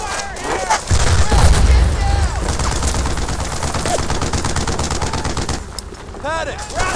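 Rapid bursts of automatic rifle and machine-gun fire in the World War II shooter Brothers in Arms: Earned in Blood, loud and dense with booming impacts, while soldiers shout over the battle.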